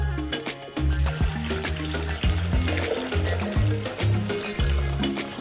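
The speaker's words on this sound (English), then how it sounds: "Then pour the water." About 1.5 liters of water poured into a Thermomix TM6 bowl holding herbal drink ingredients, a continuous splashing, gurgling stream with low rumbling as the bowl fills, close and loud.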